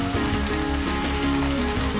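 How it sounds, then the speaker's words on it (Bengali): Chicken pieces for butter chicken frying to golden brown in a pan, a steady close sizzle and crackle with no talk. "চিকেনগুলো আমার মোটামুটি গোল্ডেন ব্রাউন করে ভাজা হয়ে গেছে"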